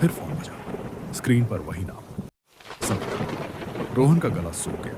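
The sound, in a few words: rain and thunder effect in a horror story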